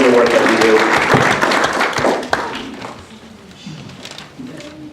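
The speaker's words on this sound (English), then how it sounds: "if we could just get one last round of applause for Lake Family Resource Center" Audience applause at the Clearlake city council meeting, a broad wash of clapping from the room that fills the first two seconds, then thins and tapers off, with some talking and scattered claps mixed in toward the end.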